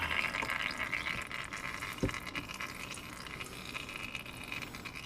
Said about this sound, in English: Let it drain for a second until it starts slowing down.